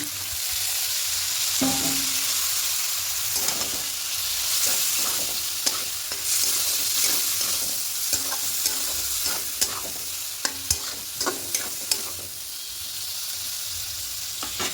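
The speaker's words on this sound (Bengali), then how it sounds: "এবার এই ডাল সেদ্ধটা দিয়ে দেবো" Boiled moong dal goes into a hot pan and is stirred in for a home-style vegetarian dal, giving a steady sizzle and frying hiss with repeated scraping stirs and small clicks throughout, close and alone.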